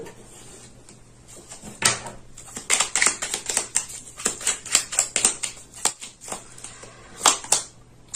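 A tarot card drawn from a deck and laid down during a French reading, giving a run of light papery taps, slides and clicks, fairly close, with no talk over them.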